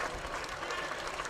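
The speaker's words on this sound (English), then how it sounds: "from the cheer that you can hear" Crowd cheering at a one-day county cricket match, Yorkshire Vikings against Northamptonshire Steelbacks, after an LBW wicket from a yorker; a dense, steady roar and applause fills the whole moment at moderate distance.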